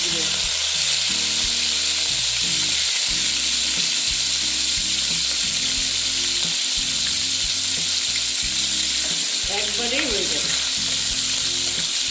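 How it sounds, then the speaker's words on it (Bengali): Katla fish pieces frying in hot oil in a kadai, a loud, steady sizzle that fills the whole stretch, with occasional stirring and clinks from a utensil. "এইবার আমি না মাছগুলো ভাজার জন্য দিয়ে দিচ্ছি"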